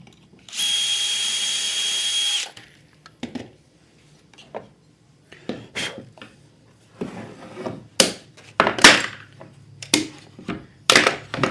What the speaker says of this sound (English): just align your jig with your dowels and drill your holes